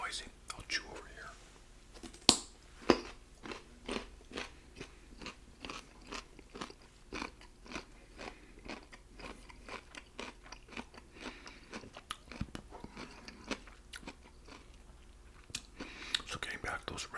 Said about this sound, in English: Hope these carrots aren't too noisy. I'll chew over here.